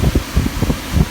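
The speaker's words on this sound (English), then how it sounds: "get you a blower off of a home HVAC system" A blower salvaged from a home HVAC system running to dry a Nissan Quest's carpet, a loud, close, rough rush of forced air with an uneven fluttering rumble.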